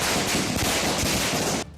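Dense, continuous crackling bursts of fireworks set off by people celebrating in Sultanpur, Uttar Pradesh, loud and close for nearly two seconds before cutting off abruptly.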